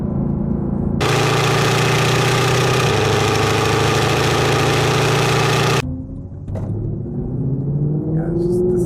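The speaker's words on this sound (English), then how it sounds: "it's just the sound of a V8" A 2014 Mercedes-Benz C63 V8 idles loud and close with a deep, even burble for several seconds, then cuts to a quieter running engine with a shifting tone near the end.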